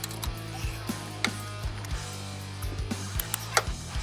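A torque wrench ratchets a main pulley bolt on the harmonic balancer of an LS1-swapped 1968 Mustang, flywheel locked, set to 235 foot-pounds; close, irregular mechanical clicks and clanks repeat over a low steady hum, with no talking.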